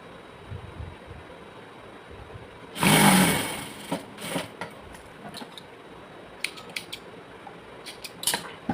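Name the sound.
sewing machine stitching a palazzo pocket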